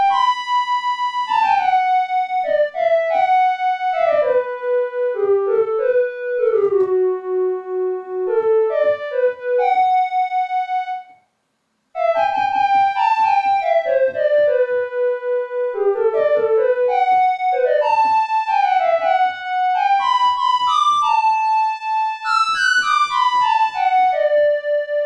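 A smooth u-he Repro-5 synth lead winds through a long, legato melody with pitch glides, loud and unaccompanied, broken by a short silence midway.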